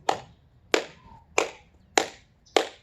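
Five sharp cheerleading hand clasps, fists snapping together at an even pace about two-thirds of a second apart, each a crisp close smack that rings off quickly in a quiet room.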